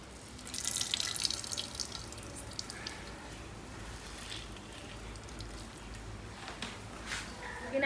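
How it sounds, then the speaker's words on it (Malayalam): Water trickling and dripping as soaked ingredients are squeezed by hand in a kitchen, a soft splash early on followed by quiet, scattered drips close by. "വെള്ളം വീഴും."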